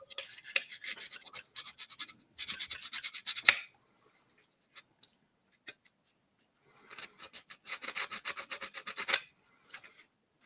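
Rasping file strokes on a model figure's teeth in two bursts of rapid back-and-forth scraping, close and crisp, separated by a few isolated scratches, with no talking.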